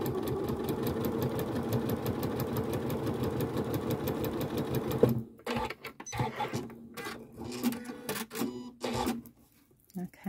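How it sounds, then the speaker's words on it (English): A Janome sewing machine sews a straight stitch, its rapid, even mechanical chatter running close and steady for about five seconds before it stops, followed by quiet handling noises and someone talking. "So I'm just on my ordinary straight stitch here"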